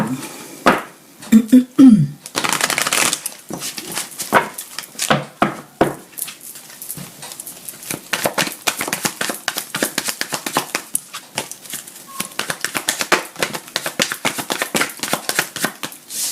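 Tarot cards being shuffled for a daily reading: a long run of close, dense riffling, slapping and clicking, with irregular bursts that continue steadily without a break.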